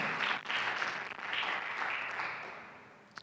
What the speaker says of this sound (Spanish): Dale un aplauso al Señor si lo crees de corazón